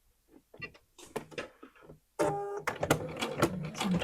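A sewing machine lock stitches a knit sleeve, first in a few short, halting bursts, then in a longer continuous run of rapid mechanical clatter, close by.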